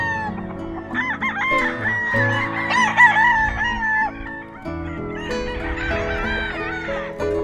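Gray cross roosters crowing on a farm in the morning, several loud overlapping cock-a-doodle-doos close by, with clucking fowl around them and no voices.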